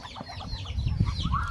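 Ducks and chickens feeding near a Thai rice-field hut in the evening, soft clucks and scattered calls over steady low farmyard rumble, close and moderately loud.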